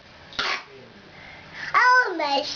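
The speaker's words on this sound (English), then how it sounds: "I did a cough." A two-year-old toddler coughs twice, close and loud: a short burst, then a harsher cough that slides into a babbling, voiced sound.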